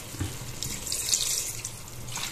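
Vinegar poured into a pan while cooking Filipino chicken adobo, a steady close liquid stream with a faint splashing hiss, heard alone without any talk.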